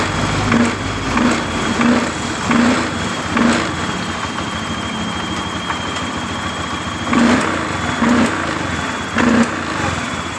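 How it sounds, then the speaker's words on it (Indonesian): A fuel-injected Honda Beat motorcycle engine, using too much fuel, idles and is revved in repeated short bursts, each rev rising briefly above the steady idle, close to the microphone. "Coba kita geber tuas gasnya dan kita dengarkan"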